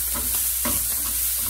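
Chopped onion and tomato fry in a pan with a dense steady sizzle, punctuated by soft scraping knocks as they are stirred.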